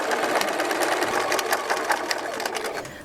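A sewing machine stitches the front pocket of a fabric tote bag, running in a fast, steady, rhythmic chatter throughout, close and clear.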